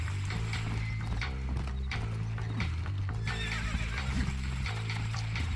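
A horse in the video game Red Dead Redemption whinnies loudly over rhythmic hoof clip-clops, set against a steady low musical drone and faint mechanical clicking.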